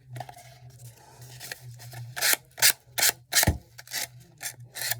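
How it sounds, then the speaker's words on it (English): Sandpaper rubbing along the cut paper edges of a bluebirds craft kit piece, a series of short, loud, close rasping strokes in an uneven rhythm with a quieter scuffing start. "So just by sanding it off,"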